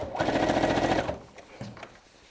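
A sewing machine runs a fast, steady burst stitching a quarter-inch fabric seam on a BBQ utensil roll, then stops, leaving a few faint handling sounds.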